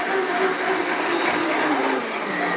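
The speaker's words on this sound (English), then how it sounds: "put it all in, no particular order, and I just blend it" Kitchen blender whirring through recipe ingredients, a loud, steady high-pitched motor drone that runs without pause and with no talking.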